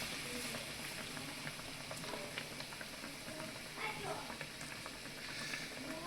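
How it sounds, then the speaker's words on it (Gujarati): Bread pakoras frying in hot oil produce a steady, even bubbling sizzle that carries on without pause, fairly soft and uniform throughout. "હવે આ જો તેલ આવી ગયું છે તો હવે આપણે એમાં પકોડા તળવા મૂકી દઈએ"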